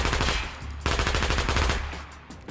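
Unsuppressed gun firing in the Battle Glide VR game: rapid, loud automatic bursts, a short pause, then another long rattling burst, close and dominant with no talking.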